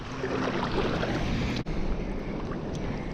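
Wind rushes steadily past the microphone while cycling beside a river near Canning Bridge, a loud continuous broadband roar with one brief dip.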